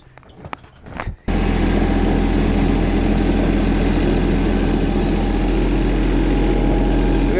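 A farm tractor engine runs loud and steady close by while towing an old Mercury Zephyr car backwards, a continuous low drone that kicks in after a short burst of clattering noise.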